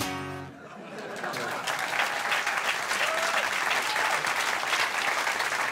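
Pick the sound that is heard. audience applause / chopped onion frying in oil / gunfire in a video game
audience applause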